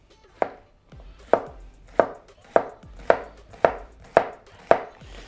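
A knife chops an onion on a cutting board in a kitchen, eight or nine crisp, evenly spaced thuds about once every half second, close and clear with no talking.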